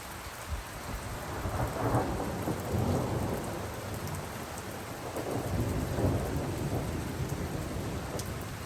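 A big thunderstorm approaches with steady rain pattering on surfaces and low rumbling thunder rolling through at intervals, dense and continuous with no voices.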